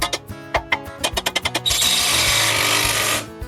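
A power driver sinks a screw through a bracket into treated timber sleepers, starting with a run of short rhythmic ratcheting bursts, then a steady loud whir for about a second and a half before stopping.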